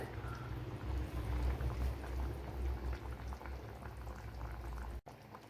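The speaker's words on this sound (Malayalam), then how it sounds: "അപ്പോൾ ലോ ഫ്ലെയിമിൽ വെച്ച് കൊടുക്കണം, മീൻ വേവണമല്ലോ." Fish curry made without coconut bubbles softly in a pot over a low flame, a steady close simmer with a busy patter of small bursts that continues unbroken and without talk until a brief dropout near the end.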